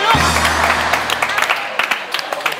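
Applause in a classroom breaks out after a low tone and swells into scattered claps that thin toward the end, with some voices mixed in.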